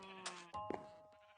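A sheep in a video game bleats a few times in quick succession, short wavering cries that sit close and fairly loud over a quiet background, with no talking.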